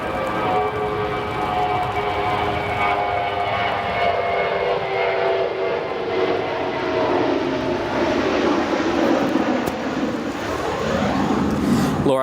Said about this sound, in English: There it is, working a little bit of aerodynamic braking